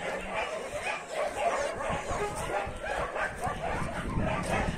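Dogs at a snowy animal shelter in Chisinau, Moldova, barking, yipping and whimpering in a steady busy chorus, with faint voices of volunteers mixed in.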